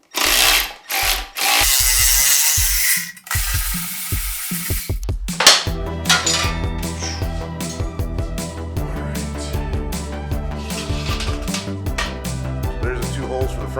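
A power drill bores holes through a chopper motorcycle's fender for its final mount: about three seconds of loud, steady, close whirring, then quieter clicks and handling noises over background music.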